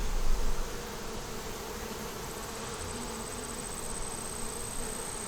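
A honeybee swarm streams back into its hive, a dense, steady, close buzzing of many bees that holds without pause and with no talk.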